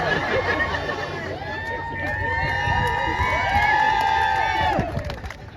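Crowd cheering and shouting at an Iowa governor campaign launch rally, a dense, loud swell of voices with whoops and cries that builds and holds steady before easing off at the end.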